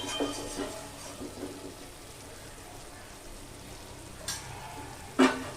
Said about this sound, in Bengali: আমি কিন্তু 5 মিনিট অন্তর অন্তর ঢাকা খুলছি আর নাড়ছি